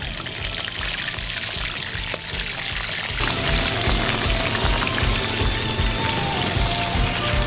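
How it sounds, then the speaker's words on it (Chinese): Soaked, wrung-out tofu skin drops into hot oil and fries in a dense, crackling sizzle that jumps louder partway through and then keeps bubbling steadily, with no voices. "放进油锅里面炸，稍微炸一下，炸至表皮金黄即可"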